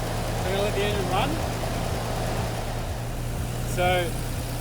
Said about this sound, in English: So we're going to let the engine run.